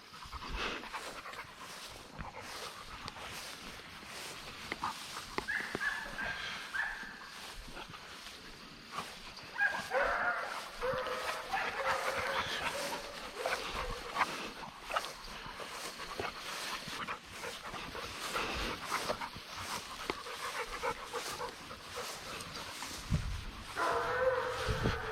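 A Presa Canario or Boerboel pants steadily at close range, a quick airy breathing rhythm that keeps going with small snuffles and shifts in intensity.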